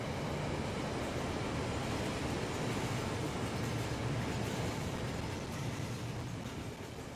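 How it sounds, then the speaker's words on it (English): Train running through a model railway layout in the Rolling Line game: a steady, dense rolling rumble with faint rhythmic clatter, holding constant for several seconds and easing slightly at the end, with no talk. "Let's let the train go through first."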